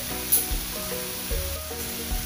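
Chicken meat browns in a pan, giving a soft steady sizzle with a few brief louder bursts as pieces are moved, and no voices.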